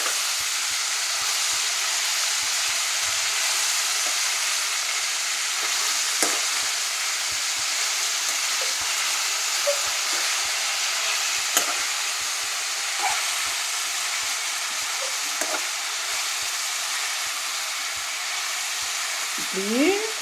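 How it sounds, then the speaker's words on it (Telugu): Ridge gourd peel and peanuts fry in a pan with a loud, continuous sizzle lasting throughout, dotted with faint occasional taps and scrapes from stirring. "ఇది పచ్చి అంతా వేగాలి. వేగుతుంది ఫ్రెండ్స్, ఇంకా వేగాలి."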